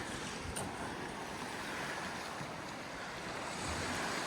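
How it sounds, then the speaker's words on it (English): Water washes and surges inside a sea cave on the coast of Angus or Fife, a faint, continuous broadband rush with wind buffeting the microphone and no voices. "you can hear water in it when you go in"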